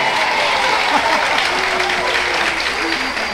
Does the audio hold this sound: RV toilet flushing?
no